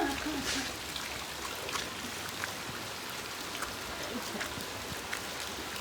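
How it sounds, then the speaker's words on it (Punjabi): Light, steady rain falls outdoors, a soft continuous patter with scattered drip ticks and no voices. "ਮੀਂਹ ਘੱਟ ਹੈ ਨਾ ਥੋੜਾ ਜਿਹਾ ਜੋ ਲਗਾਤਾਰ ਪਈਆ"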